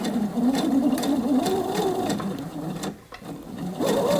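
A sewing machine runs steadily, stitching in the ditch along the binding of a dress or top, its motor whirring continuously close up, then pausing briefly before starting again.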